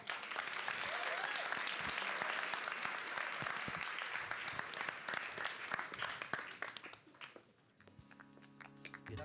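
Audience applause at the Newlab Pilot Showcase 2024, a dense, steady wash of clapping from a crowd that fades out near the end as music begins.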